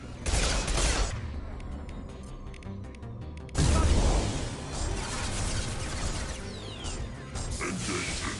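Heavy explosive weapon fire from a grenade launcher and rockets in the shooter game Mass Effect 2, with loud booming blasts and dense crackling gunfire from a battle filling the whole stretch, a big burst near the middle.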